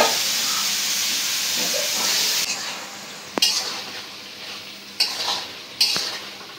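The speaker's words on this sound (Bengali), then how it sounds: "এখন বাকি সবজিগুলো দিয়ে কষা নিব।" Mixed vegetables and potatoes sauté in a pan over a village kitchen fire, giving a steady close sizzle that eases after a couple of seconds, with several sharp utensil clacks against the pan as they are stirred.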